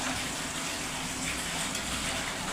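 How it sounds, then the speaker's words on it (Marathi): Water gushes steadily throughout as fresh water is poured over grated potato to rinse out the starch, a continuous broadband splashing pour with no talking. "ह्याच्यात दुसरं पाणी घेतलेलं आहे मी."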